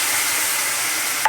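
Water poured into caramelized sugar in a hot pan, cooking for a prawn and watermelon-rind curry, gives a loud, steady broadband sizzle that holds for over a second with a small clink near the end.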